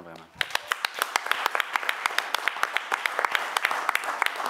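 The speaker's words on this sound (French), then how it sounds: "je pense qu'ils méritent une bonne main d'applaudissements" A council meeting audience applauds the firefighters, with a short burst of voices at the start giving way to sustained, evenly paced clapping from a modest crowd that stays steady throughout.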